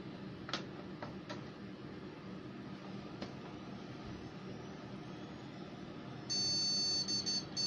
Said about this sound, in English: Who wants to bet this is going to phantom beep at us